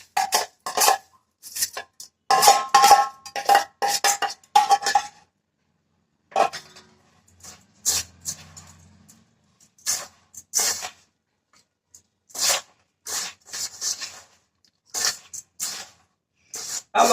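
Sugar and ghee being mixed into biscuit dough in a bowl, giving irregular bursts of scraping and rubbing, close and clear, separated by short pauses, with no talking.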